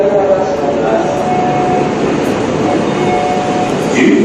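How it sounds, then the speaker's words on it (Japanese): A train roars continuously as it passes a platform at a Japanese Shinkansen station, with loud steady rumbling throughout. "11番線を列車が通過します。"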